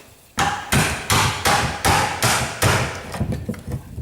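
Hammer blows knocking on a car alternator being removed for scrap, about seven sharp metallic strikes in a steady rhythm, loud and close, with quicker lighter taps at the end.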